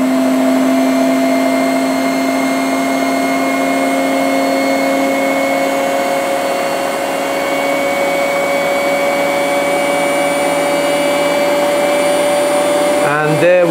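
A washing machine drum spins near its maximum speed of about 1187 RPM, giving a loud, steady motor whine with a constant hum that runs unbroken, then a brief clatter right at the end.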